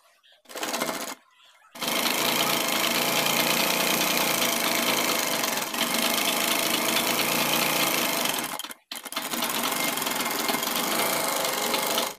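A sewing machine runs a line of stitching, attaching cotton piping to a shirt collar. It starts with a short burst, pauses, then hums and rattles steadily at close range for several seconds, stops briefly, and resumes.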